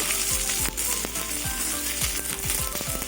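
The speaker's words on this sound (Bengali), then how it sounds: "রসুন ভাজা হয়ে গেছে এবার পেঁয়াজ দিয়ে দেবো" Chopped onions hitting a pan of hot oil after garlic has browned, sizzling loudly and close with a few stirring scrapes.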